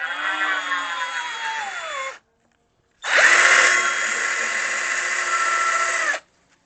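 A cordless power drill drives screws into wood in two long bursts of whining motor and grinding bit, separated by a brief silence, loud and close with no talking.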